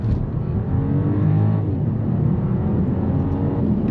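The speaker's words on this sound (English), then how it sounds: "the sound that is coming from the engine is kind of diesely" A 2024 BMW 550e xDrive plug-in hybrid cruising on the autobahn gives a loud, steady low drone with a gruff, diesel-like engine tone, which swells slightly and then holds under constant road and wind roar.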